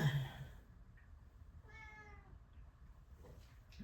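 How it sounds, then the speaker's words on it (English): A house cat meows once in a quiet indoor room, a short, fairly faint call with a rising then falling tone, and a few soft shuffling noises come before and after it. "My cat's in here."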